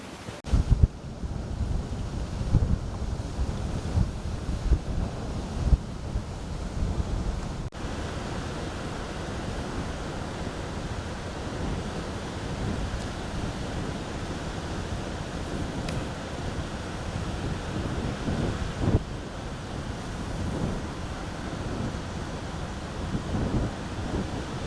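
Strong wind buffets the microphone at a beach shore, a constant roaring rumble layered over ocean surf washing in the background, with occasional louder gusts and thumps.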